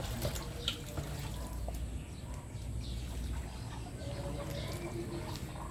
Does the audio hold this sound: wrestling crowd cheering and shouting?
no